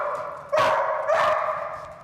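Police K-9 dog Pickles barks twice in quick succession, two sharp, loud, close yaps about half a second apart, with nobody talking.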